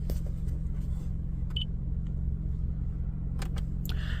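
Steady low engine rumble from cars idling in a cemetery parking area, continuous and moderately close, with a few faint clicks and brief higher noises on top and no talking.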